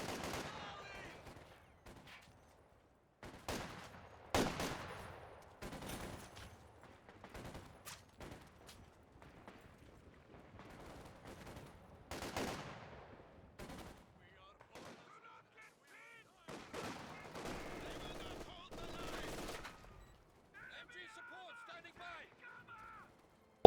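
Machine gun bursts and scattered gunfire ring out in a Company of Heroes 2 battle, sharp intermittent volleys at moderate distance spread across the stretch, with quieter gaps and faint tonal game sounds between.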